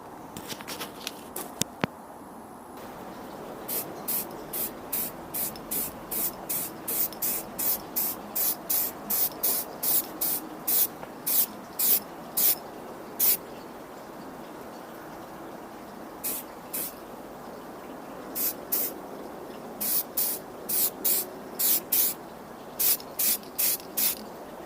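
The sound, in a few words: spraying onto car body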